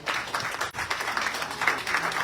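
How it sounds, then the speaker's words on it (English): An audience at a diabetes and blood sugar workshop breaks into applause for a returning attendee, a short burst of dense, continuous clapping heard up close. "give him a big round of applause"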